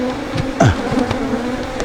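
Africanized honey bees buzz loudly and close, a dense droning hum with individual bees swooping past, heard alone without talk.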